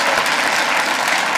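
Brief, steady applause from a comedy club audience, dense clapping throughout with no pauses.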